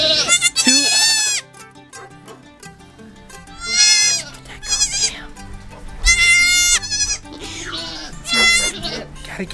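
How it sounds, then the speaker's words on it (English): Baby goats on a farm with livestock guardian dogs, bleating loudly and close in several long quavering cries separated by pauses, with people talking between the calls. "Look at these sweet little goats. Listen to that cute sound."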